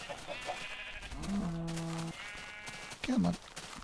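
Sheep in a video game bleat twice, a long wavering call followed by a shorter one, near and fairly loud, with faint background sounds between.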